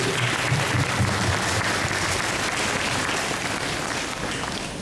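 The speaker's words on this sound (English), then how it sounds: "So let's give them a round of applause." Sustained audience applause fills a church hall during a Hmong New Year celebration at St Patrick Church, a dense, even wash of many hands clapping at once that eases slightly toward the end.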